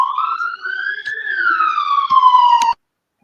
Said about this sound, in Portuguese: acho que é uma ambulância, Pedro